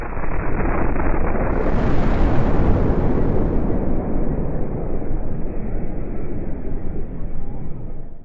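A huge, sustained roaring blast from an explosion in the digester area of the Androscoggin paper mill in Jay, Maine, rumbling loudly and continuously for several seconds, dense and broadband, with no voices.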